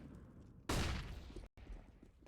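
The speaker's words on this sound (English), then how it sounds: "Comes the explosion." HE grenade explosion in Counter-Strike on the Anubis map during an ESL Challenger League match: one loud broadband blast bursts in, decays over about a second, then cuts out briefly before low game ambience resumes.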